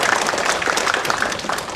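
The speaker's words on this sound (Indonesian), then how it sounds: "tepuk tangan untuk jawaban dari" An audience at a year-end Buddhist reflection talk claps briefly for an answer, a dense, fairly loud burst of many hands that carries through to the end without speech.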